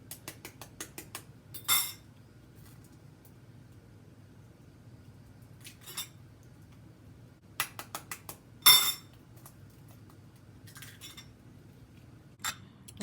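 Two eggs are beaten with a fork in a bowl for bean pancakes, making quick bursts of rapid metallic clicking and tapping separated by quiet pauses, close and fairly crisp.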